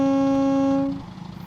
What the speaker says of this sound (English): Right, so we've got a horn, but it's not a 2-tone.